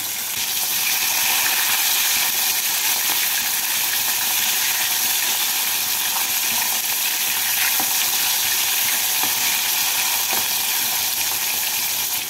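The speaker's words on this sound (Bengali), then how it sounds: "মাছের এক দিকটা লাল হয়ে ভাজা হয়ে গেলে উল্টে আরেক দিকটাকেও লাল করে ভেজে নিচ্ছি" Fish pieces sizzle steadily in hot oil in a pan while being fried for a Bengali fish curry, a continuous bright crackle at close range with small clinks, no voices.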